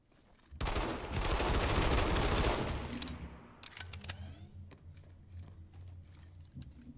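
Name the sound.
gunfire in the video game Planetside 2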